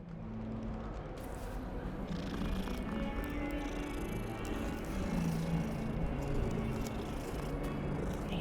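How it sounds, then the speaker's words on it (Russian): A cat in the Hogwarts Legacy video game purrs softly and steadily. A low continuous rumble runs under faint game ambience for several seconds. "Ну, кошка прикольная."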